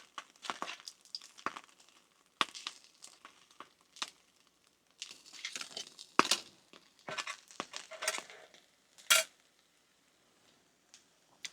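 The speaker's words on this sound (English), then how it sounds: "Definitely need to stir it a little bit" Thin spoon scraping and clinking inside a Russian bunker ration pack being stirred, with irregular scrapes, crinkles and sharp metallic taps close by, separated by short pauses.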